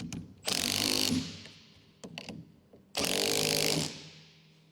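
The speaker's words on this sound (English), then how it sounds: "Use a 15mm socket with the impact to tighten the strut tower nuts." Impact wrench on a 15mm socket tightening the upper strut tower nuts of a 2021-2024 Ford Bronco 4WD during a lift kit install: two long loud rattling bursts with a few short taps between them.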